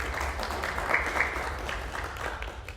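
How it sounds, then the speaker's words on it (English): Audience applause at a roundtable discussion on gun violence in Detroit, steady mid-level clapping from a small crowd with a couple of sharper claps standing out. "Please give her a round of applause."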